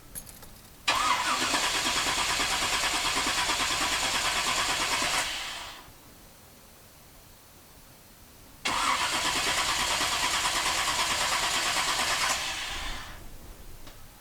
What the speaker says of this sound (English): We're just gonna hop in the car and give it a couple cranks and see what happens.